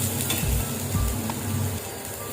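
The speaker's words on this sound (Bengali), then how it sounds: "একটু দু পিস ভালো করে ভেজে নেব" Eggplant slices dry-frying in a pan with no oil, giving a steady, close sizzle that holds evenly throughout with a few soft stirring knocks underneath.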